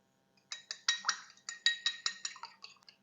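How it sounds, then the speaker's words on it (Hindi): A single egg is briskly beaten with a utensil in a bowl for a beef shami kabab mixture: a quick, even run of about a dozen bright clinks, close and clear, with no talking. "1 अंडा लिया है, इसको फेंट के डालूंगी।"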